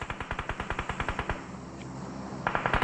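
Rapid automatic gunfire in a shooter video game, a fast burst of evenly spaced shots that stops partway through, followed by quieter game ambience and a few sharper crackles near the end.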